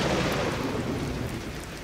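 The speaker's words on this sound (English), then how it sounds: "since we have a storm about" Thunder rumbles low and heavy over a dense wash of steady rain, loud and constant throughout a brief stormy stretch.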